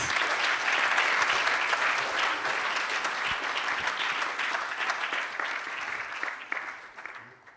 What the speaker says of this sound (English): let us all give Brother another big round of applause, please